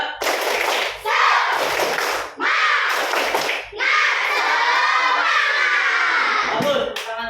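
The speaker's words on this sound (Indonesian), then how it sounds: "Oke, tepuk semangat." Schoolchildren in an Indonesian elementary classroom perform a rhythmic cheer-clap together, loud, close bursts of clapping and shouted chanting in several phrases with short breaks between them.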